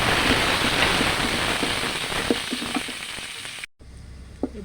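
Spices sizzle steadily in hot mustard oil for a slow-cooked beef curry, a dense continuous crackle with scattered pops that breaks off abruptly near the end and resumes more faintly, with no voices.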